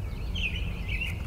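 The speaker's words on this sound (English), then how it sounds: "listening to the birds singing" Faint morning birdsong in Ohio with a couple of thin, high chirping phrases drifting over a soft outdoor background hum.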